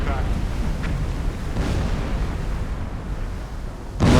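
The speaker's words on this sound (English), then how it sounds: "torpedo impact" A torpedo explodes on impact in the submarine game Silent Hunter 4: a heavy, sustained low rumble rolls on throughout, then a sharp, loud burst erupts right at the end.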